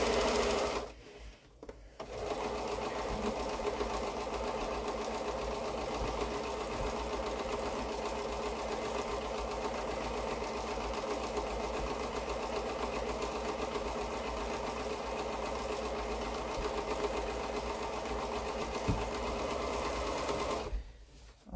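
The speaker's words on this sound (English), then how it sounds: "we're going to go ahead and over at the sewing machine sew this curve" A sewing machine sewing a curved seam on quilt fabric runs steadily for about twenty seconds with a fast, even mechanical whir, close and moderately loud, pausing briefly near the start and stopping at the end.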